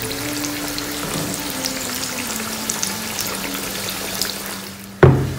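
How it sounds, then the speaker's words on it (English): Onions for chicken biryani sizzle steadily in a hot pan with a soft background hum, then a sudden clatter near the end. "As my onions are frying and my water for the rice is coming to boil"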